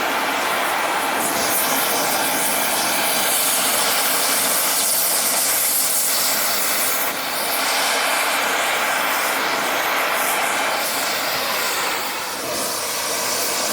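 A cutting torch roars steadily while burning through a steel part of a box-store log splitter, a loud, continuous hissing rush that holds throughout with no talk over it.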